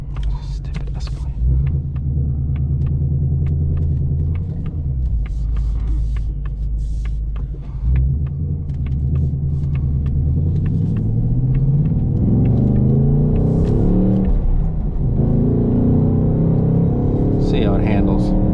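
A 2025 Ford Mustang Dark Horse with a manual transmission rumbles steadily from inside the cabin while driving in traffic, its engine tone rising and falling through gear changes, loud and continuous.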